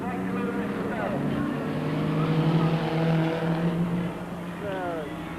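Racing trucks at a 1997 Super Series race roar past, one rolling onto its roof, engines rising and falling in pitch with a sweeping pass, heard under a commentator's ongoing talk.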